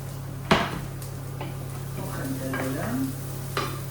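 Beans simmer in a pot while a spoon stirs and scrapes against the metal, with a few sharp knocks and clinks over a steady low hum.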